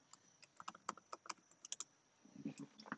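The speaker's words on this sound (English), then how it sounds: "we'll need to type in our password" Keys tapped on a Mac computer keyboard while entering a password, a quick run of light, close clicks followed by a few duller, heavier presses, alone without talk.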